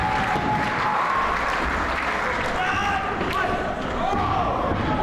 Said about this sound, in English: the crowd supporting him